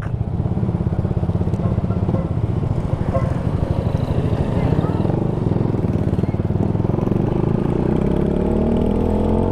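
Suzuki Gixxer 155fi motorcycle engine running steadily up close, a loud even thrum with a slight rise toward the end as gears are worked.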